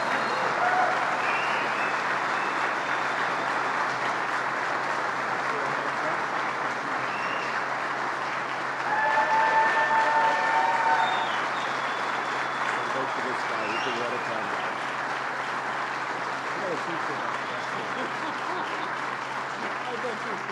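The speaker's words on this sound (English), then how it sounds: "Let's give him a big round of applause" An audience applauds Senator Charles Schumer at a news conference, sustained steady clapping for about twenty seconds with a slight swell midway, dense and fairly loud without voices rising above it.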